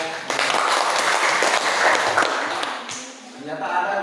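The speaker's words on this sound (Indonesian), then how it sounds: "berikan aplaus kepada kelompok" A classroom group applauds the presenting students, with dense, continuous clapping at close range that carries steadily for several seconds before thinning out near the end.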